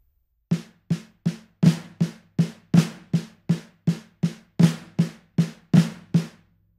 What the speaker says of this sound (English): just put flams on top of those